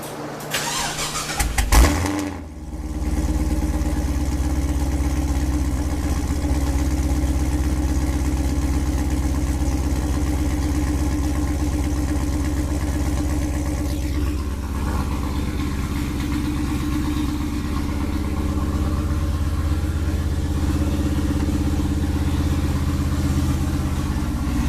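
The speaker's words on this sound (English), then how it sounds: "try and start the car, and let the compressors fill," A bagged Pontiac GTO with an air ride system cranks and catches about two seconds in. The engine then settles into a steady, loud idle that runs on without a break, with its air compressors filling underneath.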